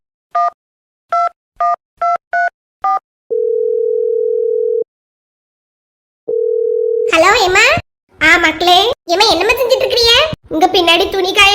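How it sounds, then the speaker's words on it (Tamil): A phone call being placed: six quick keypad beeps, then two long steady ringing tones separated by a pause, followed by a clear voice answering and a conversation on the line. "ஒரு ஃபோன் அடிப்போம்"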